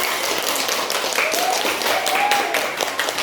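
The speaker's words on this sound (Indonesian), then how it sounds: "Tepuk tangan untuk semuanya" Classroom pupils clapping together after a song and chant, a steady patter of many hands lasting throughout, with faint children's voices mixed in.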